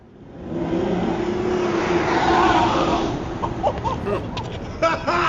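An Aston Martin car from a Nike commercial rushes past, a rising engine whoosh that swells and fades over a few seconds, fairly loud, followed by scattered voices.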